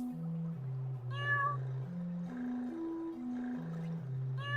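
A shadow cat in a video game gives several drawn-out, pitch-sliding meows in a row, loud and close, with a brighter higher call cutting in partway through and again at the end, and no talking over it.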